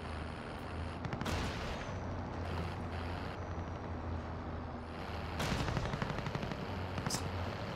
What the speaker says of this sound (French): Alors ça tire juste devant apparemment.